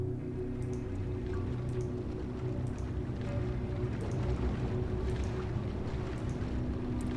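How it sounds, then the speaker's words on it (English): A water wheel in Myst III turns with a low, steady churning hum and rushing water, marked by faint intermittent drips and splashes, heard from a distance as a quiet continuous drone. "You can hear the water wheel from here, and you can also see it."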